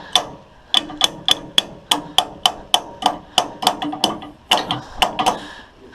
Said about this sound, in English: I would grab a wrench and hit it to try and straighten it